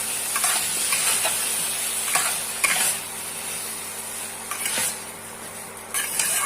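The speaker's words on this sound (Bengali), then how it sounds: "কচু ভালো করে ভেজে নিয়ে দিয়ে দেবো রসুন বাটা" Taro pieces frying with garlic paste in a pan give off a moderate sizzle and hiss, with intermittent scraping stirs and light utensil clinks against the pan, and no voices.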